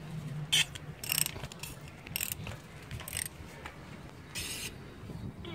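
Ratchet wrench on a 10mm spark plug socket cracking a tight plug loose, giving a few short metallic clicks and creaks at close range with no talk.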